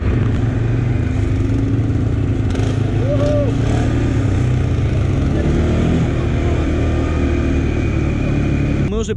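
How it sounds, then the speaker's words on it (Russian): Quad bike engines run at a steady loud drone with occasional revs close by in a forest setting, a rough continuous mechanical rumble, with people talking over it. "сейчас заводим квадрики и едем в лес"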